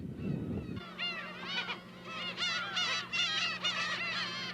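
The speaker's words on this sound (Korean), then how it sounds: "절벽을 가르며 장엄하게 우짖는 갈매기 소리가 마치 이 땅을 지키다 가신 분들의 넋을 위로라도 하는 듯하다" Seagulls call in a loud chorus over the sea cliffs of Dokdo, with repeated harsh, honking cries overlapping after a short burst of wind or rumble at the start.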